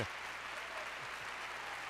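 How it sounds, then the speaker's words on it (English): Steady audience applause on a talk show, a dense even wash of clapping with no clear individual claps, moderately loud and continuous throughout. "All this applause is for you, Pete Coburn"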